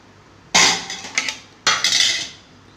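Two sharp metallic clanks as a lid is set partly open on a cooking pot in a home kitchen, each followed by brief rattling as the lid settles.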